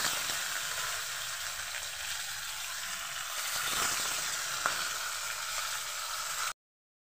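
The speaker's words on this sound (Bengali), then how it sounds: "মাছটাকে আমি সুন্দরভাবে লাল করে ভেজে নেব।" Rohu fish pieces fry in hot salted mustard oil in an iron wok, giving a steady, close sizzle and hiss that runs without pause until it cuts off.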